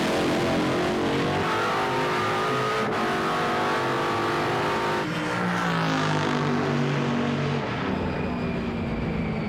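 A gasser-class drag racing car makes a pass at a drag strip, its engine roaring continuously and loudly as it climbs through gears, with a brief shift break in the middle and no voices.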